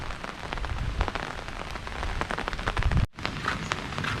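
Steady rain pours down at an outdoor market in Khemarat, Thailand, a dense, continuous patter on hard surfaces with scattered sharper drops. It drops out abruptly for an instant near the end, then resumes at the same level.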